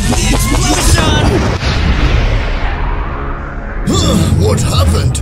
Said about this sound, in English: I'm feeling the explosion!